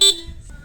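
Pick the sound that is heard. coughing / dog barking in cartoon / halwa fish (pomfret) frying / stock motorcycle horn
stock motorcycle horn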